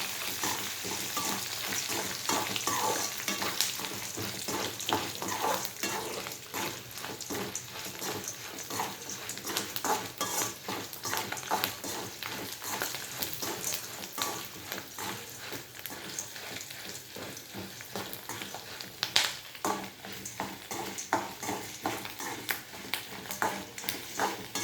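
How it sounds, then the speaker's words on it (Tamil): Dried red chilies and garlic fry in a pan with a steady, quiet, close sizzle and crackle that continues unbroken throughout. "இந்த காஞ்ச மிளகா, பூண்டு போட்டு"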